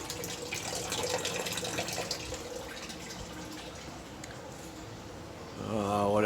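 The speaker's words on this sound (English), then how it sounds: "It's currently raining a lot, so we've got a lot of sump action here." A basement sump pump runs during heavy rain, giving a continuous watery rush and hum that grows louder near the end.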